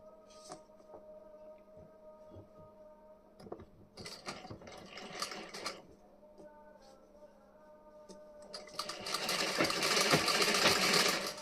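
A sewing machine stitches blouse fabric in short, quiet bursts of rapid mechanical ticking, pausing between runs, then settles into one longer, faster, louder stretch of steady whirring at the end, heard close up.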